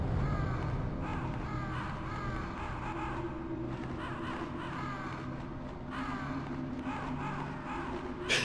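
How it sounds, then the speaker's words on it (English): Crows caw repeatedly in Metal Gear Solid, the harsh calls overlapping in an irregular, steady stream over constant game ambience and a low droning background. "Oh, birds."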